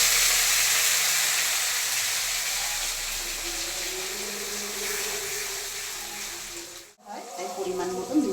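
Spice paste for paneer butter masala sizzling steadily in a kadai over a gas flame, a continuous broad hiss that fades slightly, then briefly cuts out before resuming with stirring.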